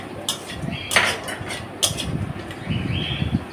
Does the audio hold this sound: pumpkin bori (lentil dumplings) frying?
yes